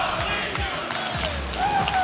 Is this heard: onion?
no